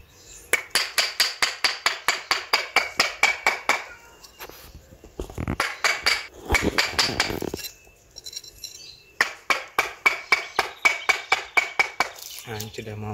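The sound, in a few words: chiseling tree roots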